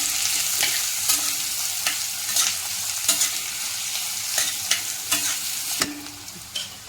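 Onion frying in oil in a pan while being stirred, a steady loud sizzle with a hiss throughout and regular scraping strokes of the spoon, close up, no voices.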